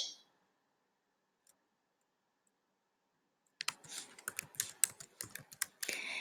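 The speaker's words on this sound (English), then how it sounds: "I'm going to type the word average" After a few seconds of near silence, fingers rattle out quick, uneven keystrokes on a computer keyboard while entering a word into a spreadsheet cell, close and crisp, with no talking.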